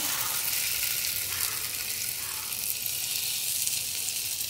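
Prawns fry in a pan with a ladle of oil over low gas, a steady close sizzle that continues evenly without pause.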